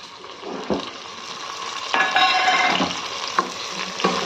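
Medium-sized tomato frying in a pan with golden onions sizzles steadily while a spoon stirs, scraping the pan in several distinct strokes.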